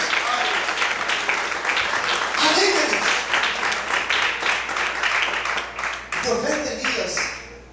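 A church congregation breaks into sustained applause that swells and fades over several seconds, while a preacher's voice carries over the clapping.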